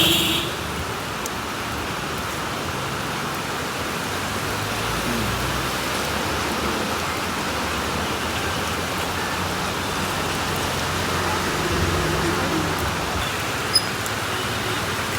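Steady rain pours down continuously during an outdoor fish sale, a dense hiss of drops on surfaces that stays even throughout, with no voices.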